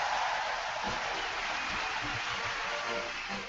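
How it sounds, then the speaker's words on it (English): Steady crowd applause, a continuous, slightly muffled patter of clapping, with faint low tones underneath. "I'm going to give you a round of applause"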